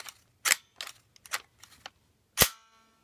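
An ICS M4-27 full metal airsoft gun fires in semi-auto, giving a run of sharp, close snapping shots at uneven intervals, with one louder crack near the end.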